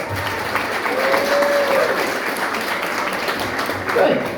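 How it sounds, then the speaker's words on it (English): A comedy club crowd applauding steadily, a dense wash of clapping at a fairly loud level, with a few cheers rising above it. "If you enjoyed Gemma Bailey, please give us a round of applause."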